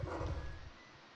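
A dog barks in the horror game Darkwood, a few quick close barks and yips in the first half second that fade into a quieter tail.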